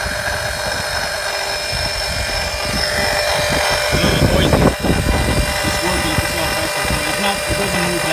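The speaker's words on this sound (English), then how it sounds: "All right, so I got the oil pump working." A 12V electric pump fills a 2006 Mercedes E-Class 722.9 transmission with oil, producing a loud, steady mechanical hum that runs throughout while someone talks over it.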